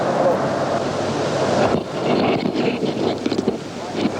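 Strong wind buffets a microphone on an exposed hilltop beside a 132 kV power line tower. It makes a steady, rushing roar with gusty swells throughout.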